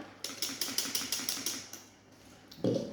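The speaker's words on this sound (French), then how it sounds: "on va revenir avec notre fouet" A whisk beats a vinegar mixture for a Piedmont salad dressing, tapping the bowl in a quick run of about eight regular clicks before trailing off into a single louder knock.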